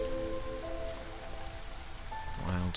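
Light drizzle falls in a video game, a steady soft patter of rain on surfaces throughout, faint and even, with a few tonal game sounds near the end.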